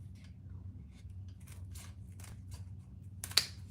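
Scissors snip through leather binding in a few quiet, separate cuts, ending in one sharper close snip against a low background hum.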